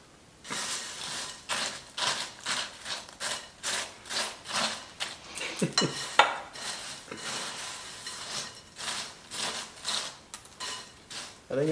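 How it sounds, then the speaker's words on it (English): Spatulas scraping and stirring ingredients in a too-small mixing bowl, a steady rhythm of rasping strokes roughly every half second, close and clear, with a brief clatter partway through. "I don't have a big enough bowl for mixing what I want to mix"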